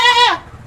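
A Jawa Randu goat bleats once on a farm, a short, clear, nasal call that rises and then trails off, close by with no talk over it.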